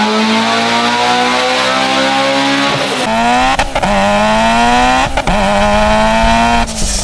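Mitsubishi Evo X revving hard on a dyno, a loud close engine climbing through the rpm in several pulls, with sharp gear shifts and brief dips as the pitch drops and rises again.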